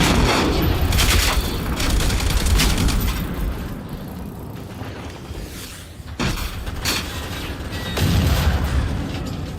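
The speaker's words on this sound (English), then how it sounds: "Another grenade gun." A grenade gun fires in the shooter Generation Zero with heavy, booming blasts over dense, loud game noise and rumbling explosions, and no one talks.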